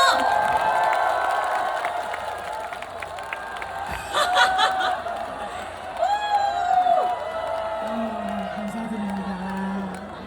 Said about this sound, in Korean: 여러분들 다 같이 박수 한번 쳐주세요